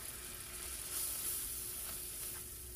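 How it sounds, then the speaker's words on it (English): Flour is whisked into melted butter in a sauté pan, producing a quiet, steady sizzle and soft hiss over a short span, with no voices. "I'm going to add 2 tablespoons of flour. And we're going to whisk this"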